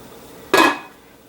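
Canning jars clink in a pot in a single sharp glassy knock that rings out briefly and fades, close and alone.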